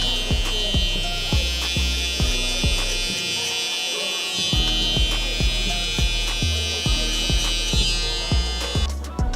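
Close electric buzzing of a shaver humming steadily with regular short clicks as it moves across hair during a fade haircut, with no talking.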